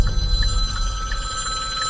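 A mobile phone ringing inside a Hyundai Ioniq 5, a repeating electronic ringtone of short chirps at a steady rhythm over low road and cabin rumble, close and clear.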